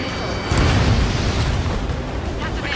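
In the flight combat game Ace Combat 7, a missile fired from an F/A-18F strikes its target with a deep, rumbling blast over continuous jet engine roar, loud and close, with a brief surge near the start.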